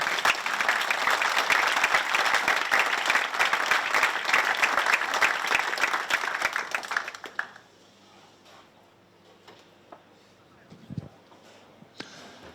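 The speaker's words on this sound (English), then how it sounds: "give a round of applause" Loud, dense audience applause at the Storm Lucky Larsen Masters 2018 bowling final, sustained for about seven seconds before cutting off sharply to a quiet hall with a few scattered thumps.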